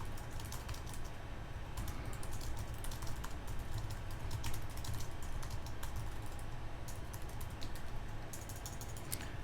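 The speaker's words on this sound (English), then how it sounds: "If I could spell right with my typing fast here." Quick, steady typing on a computer keyboard: a dense run of light key clicks over a constant background hum, close by and without speech.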